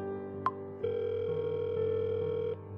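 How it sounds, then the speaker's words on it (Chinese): A telephone call tone used as a sound effect in a Chinese audiobook: a short electronic beep, then a steady, even tone that holds for under two seconds and cuts off cleanly, with no voices. "拿出手机来打给了欧阳璐。"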